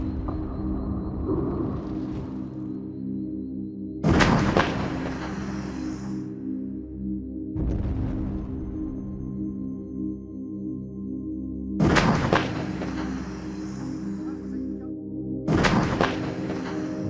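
A T84 tank's gun firing shells at a stone wall backed by gasoline drums from about 1.6 kilometres, three heavy booming blasts with long rumbling tails, spaced several seconds apart over a constant low engine-like drone.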